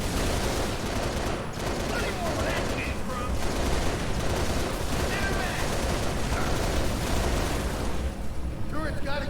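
Hostile turret fire in Halo Reach, a sustained, loud barrage of rapid gunshots and explosive bursts that barely lets up, with voices talking underneath.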